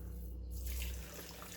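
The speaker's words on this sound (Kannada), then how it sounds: "ಇದೊಂದು ಗ್ಲಾಸಲ್ಲಿ ನೀರು ಹಾಕ್ತಾ ಇದ್ದೀನಿ." Water being poured into a glass while a fruit drink is prepared: a quiet, steady splashing trickle that swells briefly in the middle before easing off.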